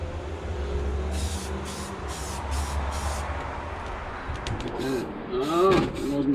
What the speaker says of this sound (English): I do spray even when it's 0. I just spray really quick and bring it back inside.